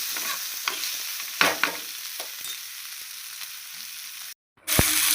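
Ivy gourd stir-fries in a pan, with a bright continuous sizzle broken by several sharp spoon scrapes and stirs, then a short silent gap before the sizzling resumes.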